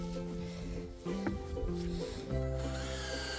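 A power driver runs torque screws into wood while a livestock feeder is built on a Russian farm. Steady whirring drive tones step up and down in pitch as each screw sinks in, close and loud, with no voices.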